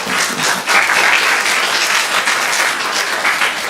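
Steady, dense audience applause after a devotional class on detachment and devotion, continuous and fairly loud throughout with no speech over it.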